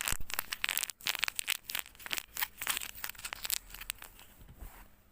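Homemade squishy made from a water-filled bag wrapped in tape being squeezed by hand, giving continuous close, loud crinkling and crunching with dense irregular bursts and no talking.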